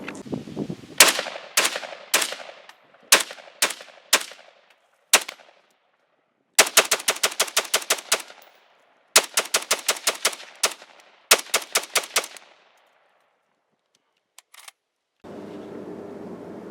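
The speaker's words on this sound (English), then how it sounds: "the second AUG you just saw shooting is a current production modern Steyr AUG A3 SA" A current-production Steyr AUG A3 SA rifle fires in loud, sharp bursts and rapid strings of shots with gaps of silence between, ending in a short stretch of steady background noise.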